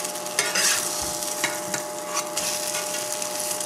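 Tuna croquettes frying in a pan just after being flipped give off a steady crackling sizzle, with a few scrapes and clinks of a utensil and no talking.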